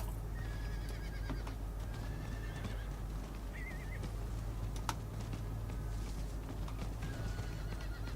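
Steady hoofbeats clip-clop along with occasional whinnies over a constant low hum and clicking, game-like and continuous, from a horse mount in Diablo IV.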